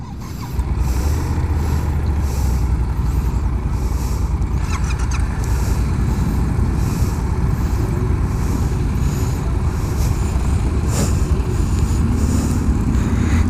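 A 2015 Yamaha FZ-07 motorcycle runs steadily on a test ride at the International Motorcycle Show in Long Beach, its engine drone and road roar loud and continuous throughout, with occasional brief mechanical clicks and no talking.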